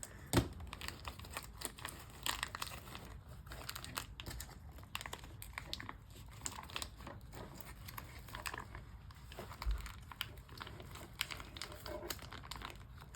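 Plastic rehydration pouches being folded and packed, giving continuous close crinkling and rustling with scattered sharper crackles and the occasional faint voice underneath.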